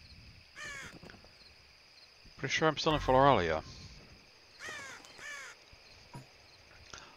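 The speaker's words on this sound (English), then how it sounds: "These crows seem unusually menacing." Crows caw in a dark countryside scene of the Dark Parables: Ballad of Rapunzel game, with one loud run of harsh calls in the middle and fainter caws around it, over an insect-like hum, while someone talks.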